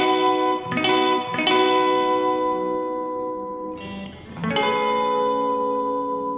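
Electric guitar playing the chord section of a song, with effects-coloured chords ringing out, struck in a few strums and hammer-ons that sustain with reverb and chorus, with no voices.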